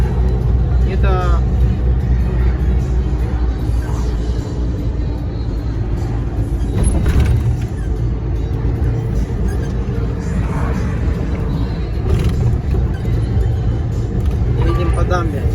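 A DAF dump truck rolls along a dam, its engine rumbling loud and continuous while a voice talks over it.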